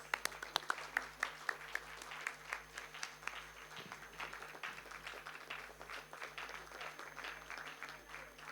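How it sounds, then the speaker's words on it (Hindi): Clapping from an audience at a literature festival poetry-and-music session, a scattered burst of individual claps that thickens into steady applause, moderately distant in a hall. "let's continue to clap"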